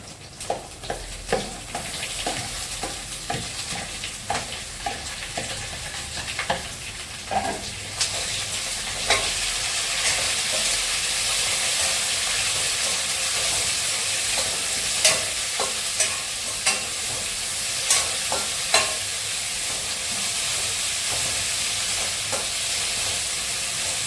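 Tomato and onions frying in a coconut mixture for duck curry, a continuous sizzle with frequent scraping clicks from stirring, the frying growing louder and steadier partway through.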